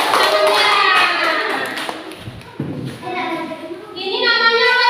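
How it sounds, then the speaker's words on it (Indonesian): Children in a classroom clapping their hands together, a burst of brisk applause under children's voices and chatter, close and fairly loud. "Tepuk tangannya."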